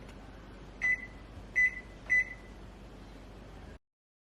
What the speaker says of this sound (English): Yes, put it in the microwave for 15 seconds.